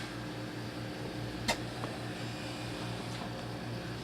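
A vacuum forming machine shaping a Kydex holster gives off a steady mechanical drone, with one brief sharp click partway through and a fainter one later.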